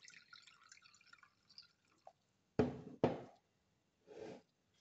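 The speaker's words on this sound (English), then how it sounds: "Water from the glass cup into the bowl." Water poured from a glass cup into a bowl: faint trickling drips first, then two sharp splashing pours and a softer final splash, close and quiet with no talk.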